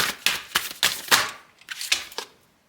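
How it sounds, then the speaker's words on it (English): Tarot cards are shuffled in a series of crisp, rapid riffling bursts, about eight close clattering flurries that fade out at the end. "Let's shuffle some more cards and see what we get here."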